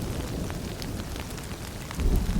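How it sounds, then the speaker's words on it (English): Night thunderstorm with rain in a city apartment courtyard setting, a dense steady hiss of rainfall with low rumbling swelling louder toward the end, no voices. "A storm wakes him later that night, and through the rain, he notices Thorwald leaving his apartment with a large suitcase."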